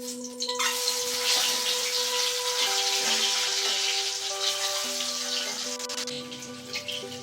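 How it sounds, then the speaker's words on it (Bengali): Eggs frying in oil in a kadai for an egg curry, a dense steady sizzle that starts abruptly and holds loud and close, with a faint tonal whine running beneath it. "ডিমগুলোকে ভেজে নিব।"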